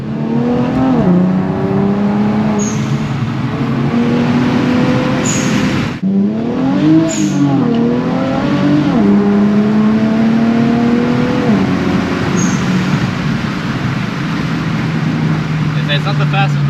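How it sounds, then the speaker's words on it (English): Exhaust of a 2018 Infiniti Q60 3.0T revving and shifting through gears, with blow-off valves hissing between pulls; loud, close and continuous, with two brief sharp releases. "I just love the noise of the blow valves"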